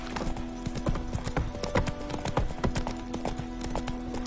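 Roach, the horse in The Witcher 3, galloping with quick rhythmic hoofbeats that are close and clear, over a faint background of in-game ambience.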